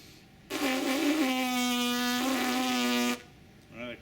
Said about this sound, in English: That creates that buzz in the middle